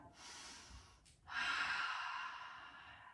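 A deep breath during a yoga warrior two pose: a soft airy inhale, a short pause, then a longer, fuller exhale that fades slowly, close and quiet with no talking.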